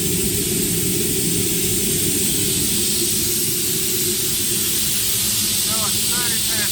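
A five-cylinder rotary engine running on steam, a continuous loud hiss and rush with a faint rhythmic undertone, steady and close for the whole stretch.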